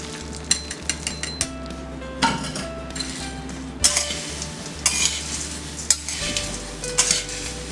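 A spoon repeatedly scrapes and clinks against a pan while stirring poha chivda with fried chana dal, with irregular metallic taps over a faint steady hum.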